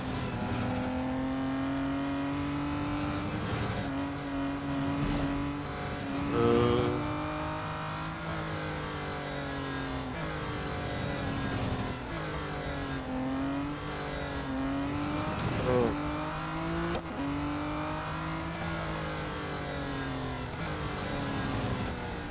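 A V12 race car in the Real Racing 3 mobile game on a track day, engine revving up and down through gear changes and corners, loud and continuous with no talking over it.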